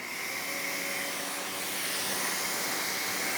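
Ryobi 1800 PSI pressure washer spraying through a 3.4 nozzle, a loud, steady broadband hiss and roar of water jet and motor running continuously with no pauses.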